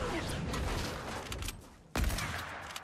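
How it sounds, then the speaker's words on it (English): Hunting rifle fire in Fortnite, heard as dense, loud gunfire with one sharp, heavy crack near the end over a busy game mix. "I'm so bad with the hunting rifle."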